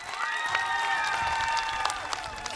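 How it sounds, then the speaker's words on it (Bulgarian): Applause from the crowd at a televised folk dance competition show in Bulgaria, a steady wash of clapping and cheering with sustained whistling tones on top and scattered sharper claps near the end. "Аплодисменти още веднъж за Фолк Фитнес."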